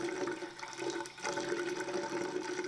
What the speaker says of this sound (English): You want to get some nice warm water running.